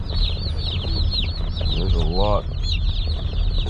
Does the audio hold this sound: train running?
no